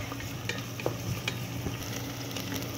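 Chopped onion sizzles steadily in hot oil for red macaroni, with a spoon stirring through it and leaving scattered soft scrapes and clicks over the continuous close frying hiss.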